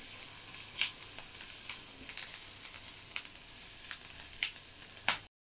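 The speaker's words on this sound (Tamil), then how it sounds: "இது நல்லா வதக்கிக்கலாம்." Chopped onion and a bay leaf sizzle and crackle steadily in hot butter in a pan for paneer butter masala, with occasional pops and stirring scrapes.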